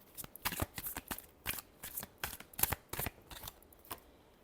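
Tarot cards being shuffled by hand: a quick run of crisp, papery riffles and slaps, about a dozen bursts in uneven rhythm, close and clear with no talking.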